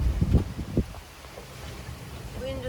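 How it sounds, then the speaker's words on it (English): Wind and rough sea around a sailboat on an overnight passage between Moorea and Huahine, a constant breathy rush with buffeting gusts on the microphone and low thumps near the start, under brief speech. "The wind and the seas are still well up"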